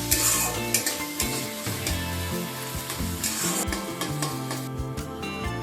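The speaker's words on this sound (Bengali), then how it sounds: "পেঁয়াজটাকে গোল্ডেন কালার করে ভেজে নিতে হবে।" Three finely chopped medium onions fry and sizzle in a pan while being stirred steadily, with scraping and stirring strokes over a continuous loud sizzle throughout, no voices present.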